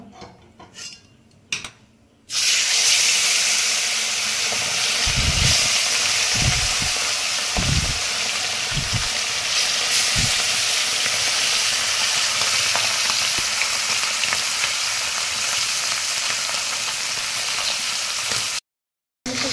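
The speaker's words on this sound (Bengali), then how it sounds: "কড়া করে মাছগুলো ভাজবো না বন্ধুরা, টকের মাছ আমি হালকা করে ভাজবো।" Fish coated in salt and turmeric fry lightly in mustard oil in a kadai. A loud, steady hiss of sizzling starts after a short quiet opening. Several low thumps of a utensil against the pan come through, and the sizzle cuts off briefly near the end.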